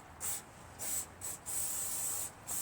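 Cleaner is sprayed onto the outside of the carburetor on a Craftsman LT1000 lawn tractor's Briggs opposed-twin engine: five close, hissing aerosol bursts of uneven length, the longest about a second.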